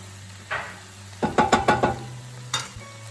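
A mushroom tofu patty mixture cooks in a pan, with a few scraping stir strokes and a quick run of clattering taps over a low hum, close and fairly quiet.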